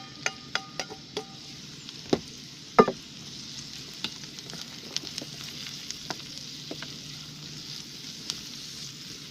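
Onions with paprika sizzle softly in a pan outdoors in a forest, with a steady low hiss broken by scattered clinks and taps of stirring against the pan, some sharper than others.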